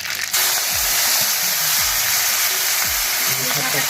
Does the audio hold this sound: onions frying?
yes